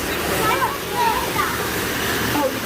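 Tap water runs steadily as a child washes their hands at a farm attraction, a continuous near splashing stream filling the whole moment, with faint voices in the background.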